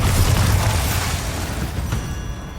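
Bombarda explosion spell in Hogwarts Legacy, a loud booming blast with a rumbling low end that fades over a couple of seconds.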